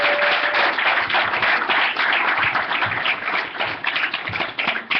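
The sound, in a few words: audience applause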